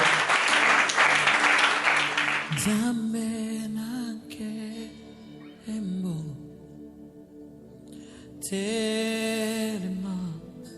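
A church congregation claps loudly together during a service. The dense applause fades into sung music, and clapping rises again over the singing near the end.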